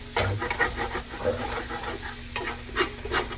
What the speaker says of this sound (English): as we're stirring, I'm going to scrape up the bottom here